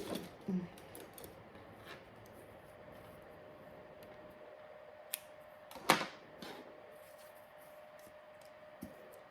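Small scissors cut through lace with a few faint, crisp snips spread across quiet room tone, one sharper snip standing out near the middle.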